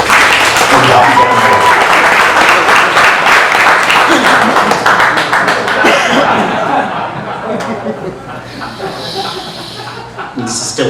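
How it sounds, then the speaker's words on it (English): A comedy club crowd claps loudly and steadily, with scattered laughter and chatter mixed in, before the applause thins and fades toward the end. "maybe if the crowd, started clapping, giving a little encouragement"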